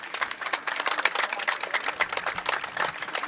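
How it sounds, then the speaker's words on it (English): A crowd applauds at a Turkey vs Denmark field match as an injured player walks off holding his shoulder: dense, steady clapping from many spectators, moderately loud and continuous throughout, with no talk over it. "A really large round of applause here for Yoel walking off the field, clutching that shoulder"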